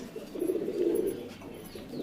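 A female pigeon coos in a loft, a soft continuous low murmur lasting about two seconds, with no talk.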